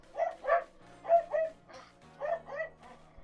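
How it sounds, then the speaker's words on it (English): Pet dogs bark in a quick run of sharp yips and woofs, coming in close pairs and clusters, moderately loud against a quiet room. "Bark, bark, bark, bark, bark."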